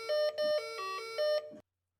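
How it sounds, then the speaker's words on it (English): Doorbell ringing three times in quick succession, each a bright two-tone electronic chime, clear and close, ending in silence. "I rang the doorbell 3 times."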